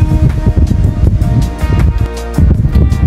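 Strong wind buffets the microphone in loud, rumbling gusts throughout, with a brief low drone partway through.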